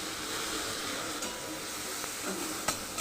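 Onions frying in a pan with tomato, Bengali five-spice, turmeric, salt and a pinch of sugar, giving a steady low sizzle and hiss with a few faint stirring scrapes, no voices.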